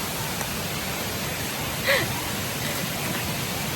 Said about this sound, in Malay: Ada air terjun. Tapi ni macam air yang mengalir.